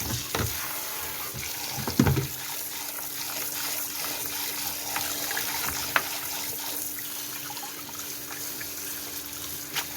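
Salted, soaked sweet potato stems being rinsed under running water in a kitchen sink for kimchi: a faint, steady tap stream with light splashes and a couple of small clatters.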